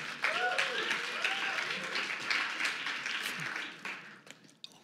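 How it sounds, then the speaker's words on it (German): An audience applauds at a Christian talk event in Switzerland, a steady wash of clapping from a crowd that carries on for several seconds and thins toward the end, with some voices mixed in. "Geben wir einen Applaus"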